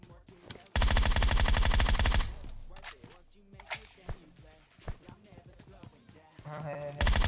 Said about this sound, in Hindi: यहाँ आगे से कोई M24 भी पटका रहा था